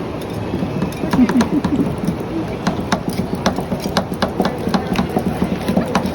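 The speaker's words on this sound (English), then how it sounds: "Chop it now? yeah, chop it." Rapid metal-on-metal tapping of spatulas chopping ice cream with raspberry and popping candy on a cold pan for ice-cream rolls, an irregular run of sharp clacks close by, with a voice briefly in the background.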